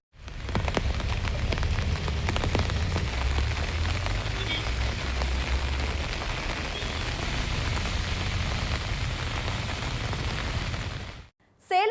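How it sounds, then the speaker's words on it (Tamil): Heavy rain pours steadily in Ooty, drenching roads as rainwater runs along them; a dense, loud, continuous hiss and patter fills the whole stretch before cutting off abruptly near the end. "உதகையில் 1 மணி நேரத்திற்கு மேலாக பெய்த கனமழையால் சாலைகளில் மழைநீர் வழிந்தோடியது"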